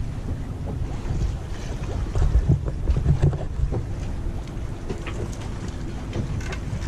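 A Figaro sailboat sailing in the wind off Royan. A steady rush of wind and water runs throughout, with a few louder gusts near the middle and no voices.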